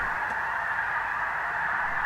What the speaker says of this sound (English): snow geese.